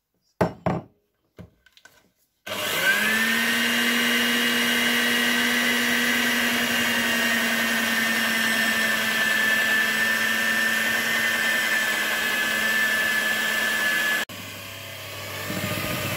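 After a few brief knocks, an electric mixer whirs on and runs steadily for about twelve seconds, mixing apple cake batter with flour. It is loud and close with a constant motor whine, then drops to a lower hum near the end.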